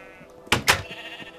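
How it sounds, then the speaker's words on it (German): Sheep in Minecraft give two quick loud bleats close together, then the scene goes quiet again. "da haben wir jetzt hier oben Schafe"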